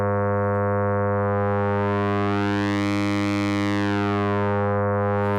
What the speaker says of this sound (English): So the phase distortion sounds really nice.